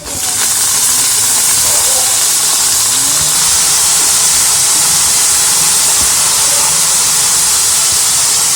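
Three peeled, chopped potatoes go into a pan of sautéed onions for potato masala, giving a loud, steady, close-up sizzle that hisses on without a break.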